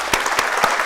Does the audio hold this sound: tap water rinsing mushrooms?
no